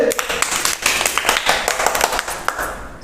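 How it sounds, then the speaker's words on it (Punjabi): Children clapping together in a classroom, quick uneven claps in bursts near and loud, with voices mixed in. "ਸ਼ਾਬਾਸ਼ ਤਾਲੀਆਂ ਮਾਰੋ ਸਾਰੇ ਬੱਚੇ"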